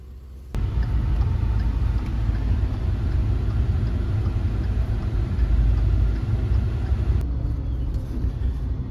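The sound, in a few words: tractor engine, loading tractor onto a trailer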